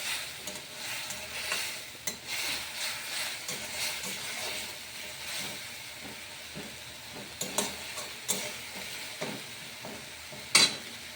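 Tomato puree frying in a pan with ginger-cumin paste for a cauliflower and paneer vegetable dish, a steady close sizzle broken by repeated scraping stirs of a spoon, with a sharp clink near the end.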